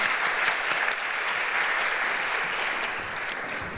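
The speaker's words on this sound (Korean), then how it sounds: "우리 1, 2 여전도 회원분들에게 큰 축복과 격려의 박수 부탁드리겠습니다." A congregation in a Korean church at a Friday prayer meeting gives a round of steady applause, a continuous patter of many hands that eases off slightly toward the end.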